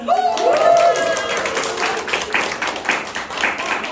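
An audience claps and shouts together during a church small-group leadership training session, with steady dense applause and a rising cheer over four seconds and a voice near the start.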